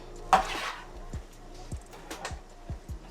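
Scallops in Alfredo sauce are stirred in a pan fresh from an air fryer oven, with a few soft scrapes and light clinks of a utensil against the metal, quiet and close with gaps between strokes.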